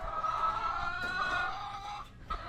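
Chickens clucking and calling inside a three-layer coop, a steady close chorus of overlapping bird voices with no talk.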